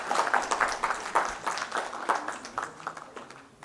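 A conference audience applauds, a modest scattering of claps at moderate distance that thins out and fades toward the end.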